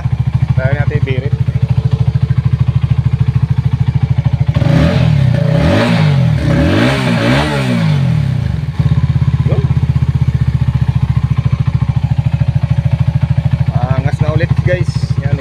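Motorcycle engine idling steadily after a throttle body cleaning and fuel pressure check, with a brief rising rev in the middle before settling back to a constant close-up idle.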